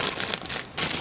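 Plastic bag crinkling as a Transformers Classics/Generations cone-head seeker toy is pulled out of a storage bin, a short burst of close, continuous rustling with brief dips.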